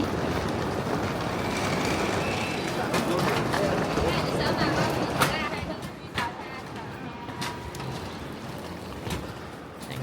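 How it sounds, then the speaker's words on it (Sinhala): Passenger train in China rolling along the tracks, steady rumble with clicks and faint wheel squeal, heard close while people talk over it. "මේකද අපේ ට්‍රේන් එක?"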